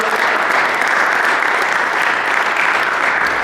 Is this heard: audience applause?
yes